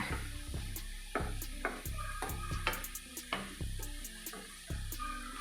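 Agathi flower thoran being stirred with crushed coconut in a pan, a spoon scraping and knocking against the metal in a steady rhythm of close clatters over a soft sizzle.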